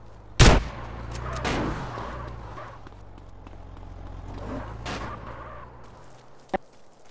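Gunfire in a police shooter video game, a sharp loud shot early, then scattered bursts and a mid-clip volley under a steady low engine-like drone, ending with one crisp single crack.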